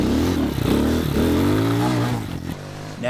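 An X-Pro Hawk 250 dual sport motorcycle engine runs close by, with a rough idle and a couple of revs. The sound is loud at first and eases off near the end.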